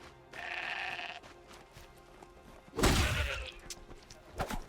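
Goat in the video game Horizon Zero Dawn gives a single bleat, followed by a heavy thud and crashing impact, then a few scattered knocks, fairly quiet overall.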